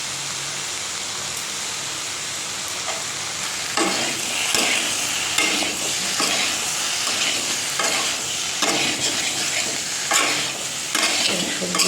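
Vegetables with tomatoes, green chilli, chilli powder and a little sugar fry in a pan, a loud broad sizzle that swells partway through as repeated scraping stirs keep a busy, uneven rhythm, with no voices.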